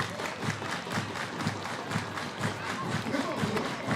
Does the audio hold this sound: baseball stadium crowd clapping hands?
yes